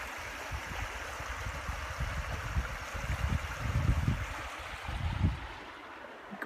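The James River flows by as a soft, steady wash of moving water, faint and continuous with gentle swells in intensity and no voices.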